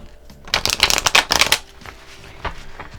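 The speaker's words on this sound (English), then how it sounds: "But we're gonna just shuffle a little bit more in that case," Tarot cards are shuffled in a quick flurry of riffling, followed by a few softer shuffles, close up with no talking.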